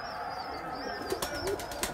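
Pigeons in a coop coo softly and chirp, with a few brief wing flutters and light rustling nearby, steady and fairly quiet with no voices.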